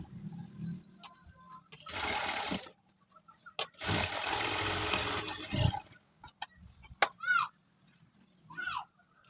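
A sewing machine double-stitches a blouse lining around the armhole, running in two sustained bursts of a few seconds each, with quiet handling noises between them.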